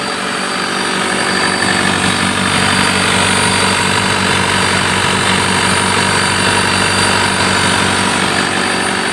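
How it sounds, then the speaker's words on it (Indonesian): A 2010 Isuzu Panther LS Turbo diesel engine is held at 1500 RPM, giving a loud, steady, close drone with constant vibration throughout and no talking. "kita hidupkan mesin, ditahan gas di RPM 1500, lalu kita semprot seperti di video ini"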